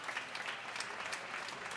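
Continuous clapping from the home crowd rolls through a high school basketball gym, a thick, even ovation for an injured senior player leaving the court.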